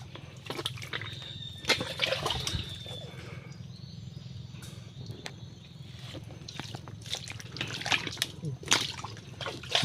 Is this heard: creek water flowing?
yes